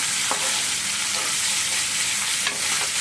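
Vadavam seasoning frying in a pan for pulusu, with tomato and onion in the pan, gives a steady, close, loud sizzle throughout, with a few faint stirring scrapes and no talk.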